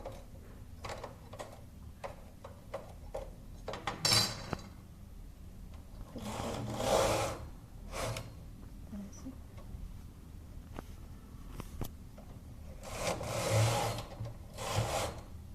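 A knitting machine carriage runs rows of a wool scarf with repeated rasping, sliding sweeps and small clicks in an uneven rhythm, moderately quiet and close.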